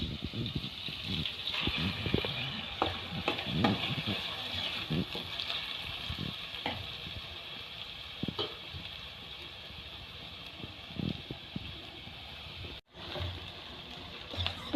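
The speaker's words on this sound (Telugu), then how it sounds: "ఇప్పుడు ఈ రొయ్యల్ని వేసేసుకున్నాం." Prawns frying in a pan for prawn curry, a faint steady sizzle with soft scattered pops and clatter, fairly quiet and continuous.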